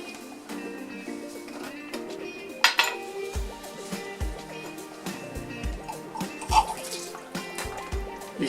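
Small jets of water rinse benzoic acid crystals from a glass beaker, giving splashing trickles with repeated light glassy clinks and taps against the glass, steady and close throughout.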